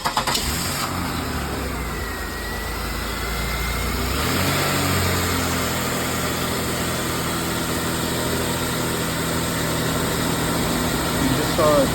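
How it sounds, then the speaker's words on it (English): A car engine cranks and catches, then settles into a steady idle with a low hum and faint whine, close by, during an automotive class check of engine sensors. "Bailey's gonna start the car"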